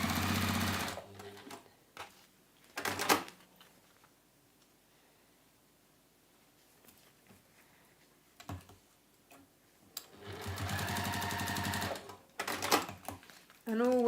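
A sewing machine stitching across the folded fabric end of a three-pocket tote bag, running in a few short bursts, the longest near the end, with quiet pauses between.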